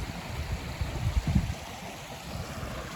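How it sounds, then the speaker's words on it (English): A small river flowing on Dartmoor, heard as a steady low wash of water mixed with gusty rumble from the outdoor air, fairly close and continuous with no talking. "Lovely river."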